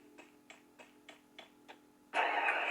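In a mobile shooting game, a monster truck's engine starts: a few soft regular ticks come first, then a loud, steady mid-range engine roar that continues to the end, with no voices.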